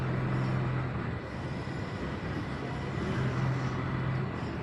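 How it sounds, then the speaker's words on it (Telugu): A Bangalore metro train passes on the opposite track, producing a steady rumbling rush of wheels and motor that holds at moderate level before easing slightly, heard from the platform with no talk. "ఆపోజిట్ ట్రైన్ వెళ్తుంది, బట్ మా ట్రైన్ అయితే ఇంకా రాలేదు."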